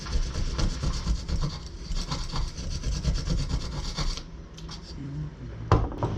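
A hole for a switch is cut out in a rapid, rhythmic rasping that sounds like hand sawing or filing, close and continuous for about four seconds, then a few lighter scrapes and a sharp knock.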